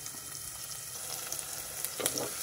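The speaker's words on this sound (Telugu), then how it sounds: "ఉల్లిపాయలు ఒకసారి కలిపేద్దాం. ఇవి కొంచెం వేగాలి." Chopped onions fry in hot oil for a fenugreek-leaf and broad-bean curry, a steady close sizzle with a brief stirring rustle near the end, no voices.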